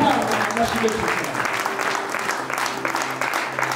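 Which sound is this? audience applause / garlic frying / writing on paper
audience applause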